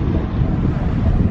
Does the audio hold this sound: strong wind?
yes